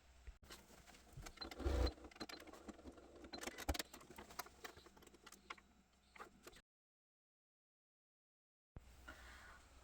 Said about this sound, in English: I'm going to take it over the sewing machine and tack the handles into place